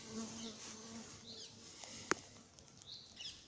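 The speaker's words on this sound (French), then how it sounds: "il y a quelques abeilles qui viennent me remettre à ma place" Honeybees fly around a hive while a colony is being split, a faint, quiet buzz with a few brief sharper flights close by and one sudden click partway through.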